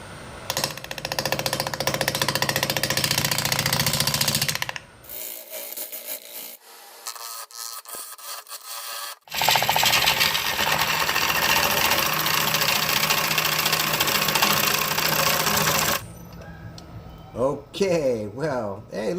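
A wood lathe turns a privet (Ligustrum) crotch blank with epoxy fill, giving loud, dense mechanical whirring and scraping that cuts out for a few seconds mid-way, then resumes strongly before tapering off.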